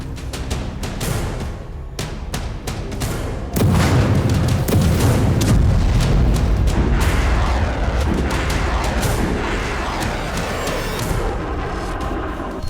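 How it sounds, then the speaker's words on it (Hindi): A rapid series of heavy blasts and booms from a drone attack in the Russia-Ukraine war, some sharp and cracking, others deep and rolling, overlapping into a continuous barrage. "एक साथ 36 ड्रोन से धमाके"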